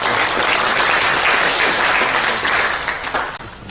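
An audience at a panel forum on border regions applauds loudly and steadily, a dense wash of clapping that tapers slightly at the end.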